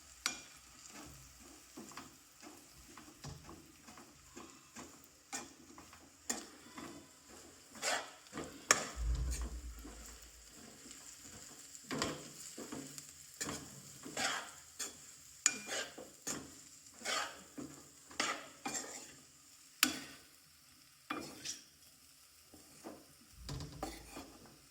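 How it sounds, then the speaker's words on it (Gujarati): A spoon stirs and mixes a crumbled bajra rotla in a frying pan, making soft sizzling and a string of scattered scrapes and taps against the pan. The sounds come close and fairly quiet in uneven bursts, with no talking. "આપણે સારી રીતે મિક્સ કરી દઈશું."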